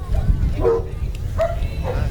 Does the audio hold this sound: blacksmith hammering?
no